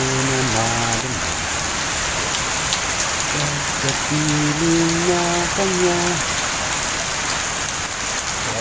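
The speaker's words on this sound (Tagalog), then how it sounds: "lakas ng ulan" Heavy rain pours steadily in a dense hiss while a song with singing plays underneath.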